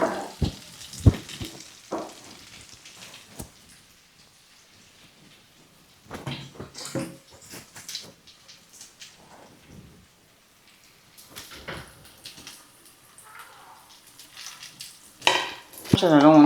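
Akara bean fritters sizzle and crackle in hot oil in a pan, a soft frying hiss broken by louder bursts of spattering and clinks as batter drops in, with no talk.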